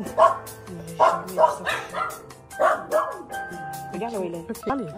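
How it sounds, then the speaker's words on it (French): A stray dog barks repeatedly in sharp bursts, fairly close, interspersed with whimpering yips while people talk nearby in French, in Australia. "C'est un chien errant"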